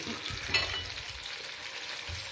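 A sausage cooks on a Moulinex Accessimo plancha griddle turned down to setting 3, giving off a continuous, fairly loud sizzling hiss with faint crackles and no voices.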